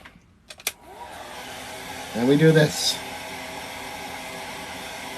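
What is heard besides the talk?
hair blow dryer running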